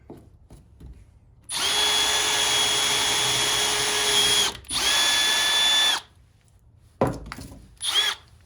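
A Milwaukee M12 FUEL 1/2-inch cordless drill/driver whirs at high speed in drill mode in two long sustained runs, then a couple of short bursts, loud and close with no talking.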